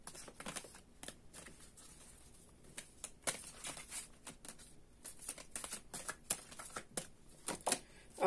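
Tarot cards being shuffled by hand, with repeated soft riffling and slapping bursts in an uneven rhythm, close and fairly quiet, with no talking.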